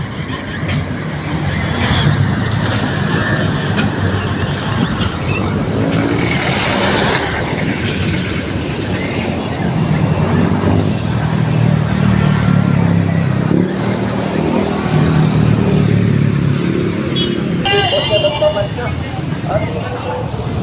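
Heavy road traffic of cars and motorcycles in San Cristobal rumbles continuously and loudly nearby, with engines droning and passing vehicles rising and falling, while a person talks over it.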